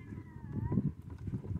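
A kitten near a spot where fish traps for tilapia are being pulled cries with a thin, drawn-out meow over low rumbling outdoor noise.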